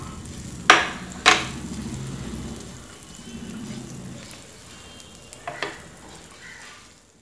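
Butter sizzles on a hot tawa as bread pizza is made. Two sharp clanks of metal on the pan come first, then a soft, steady frying hiss with a couple of lighter knocks, close and quiet, with no voices.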